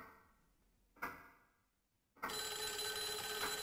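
A telephone bell in the DS mystery game Akagawa Jiro Mystery Yasoukyoku starts abruptly after a couple of faint clicks and rings loud and steady to the end, bright and insistent with no voices.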